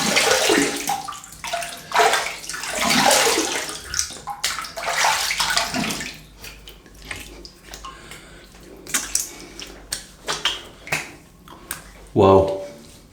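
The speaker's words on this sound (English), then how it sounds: "Right, let's have a quick rinse." Running tap water gushes steadily as a titanium safety razor is rinsed under it. The strong splashing lasts about six seconds and is followed by softer intermittent clinks and dribbles, with a voice talking briefly over it.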